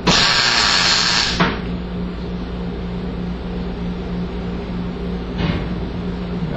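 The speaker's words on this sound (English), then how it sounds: "I've got some places marked where I'm going to spot weld this" A welder set to high heat spot welds a body brace on a '79 El Camino, giving a loud, steady crackling buzz close by that runs for several seconds after a harsher opening burst.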